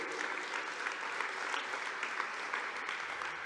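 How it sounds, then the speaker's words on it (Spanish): A church congregation applauds in a steady, dense wash of clapping that holds at an even level for a few seconds, somewhat distant and with no voices standing out. "¿Alguien puede darle un aplauso al Señor nuestro Dios?"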